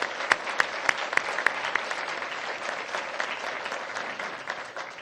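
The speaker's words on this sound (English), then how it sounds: "Can we give them a round of applause?" Audience applause at a public event on crime statistics after officials are introduced, a steady wash of clapping hands with a few sharper individual claps standing out, moderately loud and fading slightly toward the end.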